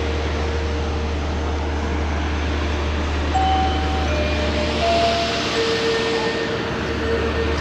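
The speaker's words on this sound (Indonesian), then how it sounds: "Ini kereta Doho." Doho passenger train standing at busy Kertosono station, bound for Surabaya Gubeng, with a steady low diesel engine drone and rumble under faint whistling tones and station ambience throughout.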